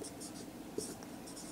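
Short scratchy strokes of writing on a board during a physics lesson on equations, coming in brief bursts with a small knock near the middle, faint and close.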